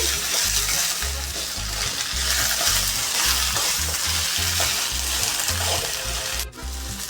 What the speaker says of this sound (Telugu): ఆయిల్లో బాగా బెండకాయలు ఫ్రై కావాలి